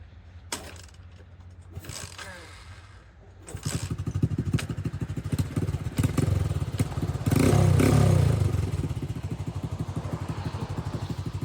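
A motorcycle on its stock CDI idles and revs while standing still, loud and close, with a rapid throbbing exhaust pulse that swells in the middle and a few mechanical clatters near the start.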